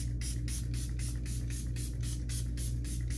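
A rapid series of about a dozen quick misting spritzes of makeup setting spray from a bottle, evenly spaced and close, over a steady low hum.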